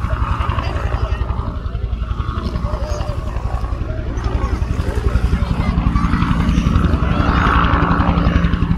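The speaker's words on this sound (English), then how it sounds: "Sounds like a police helicopter. Is it a police helicopter?" A police helicopter's steady rotor thudding fills the air overhead, a rhythmic chopping drone that swells slightly louder toward the end, with voices faintly underneath.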